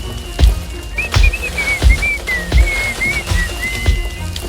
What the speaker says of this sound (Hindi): ओह, वो सीटी कैसे बजा सकता है?